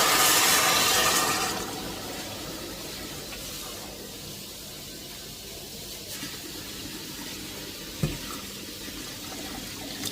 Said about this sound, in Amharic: ከዛም ውሃ አደርጋለሁ።